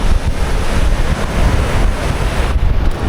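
Waves washing on a Kuantan beach at Batu Pelindung, a continuous loud roar of surf mixed with heavy wind buffeting the microphone, with no voices.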